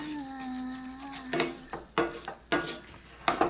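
Flour paste cooked in bacon grease in a pan, soft sizzling with several distinct scraping stir strokes at irregular intervals, preceded by a brief tonal whine.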